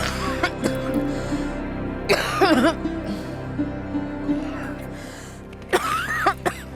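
An elderly woman coughs in a domestic scene from an Indian crime drama, with several harsh, throaty bursts spread over a few seconds and quieter stretches between them.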